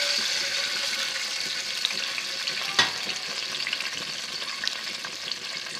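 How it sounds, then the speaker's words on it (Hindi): Milk poured into a hot pan of jaggery rice: a continuous bright hiss and bubbling sizzle with one sharp splash-like burst near the middle, steady and close with no voices. "बाद हम इसमें आधा कप तकरीबन दूध शामिल करेंगे।"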